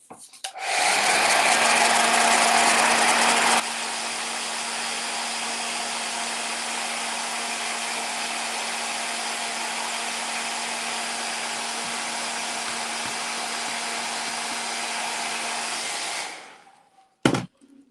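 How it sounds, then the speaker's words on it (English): A hair dryer blows on a DIY wooden home decor box craft project, a close, steady whooshing hum that drops to a lower setting after a few seconds and runs alone until it switches off. "going to blow dry that super fast."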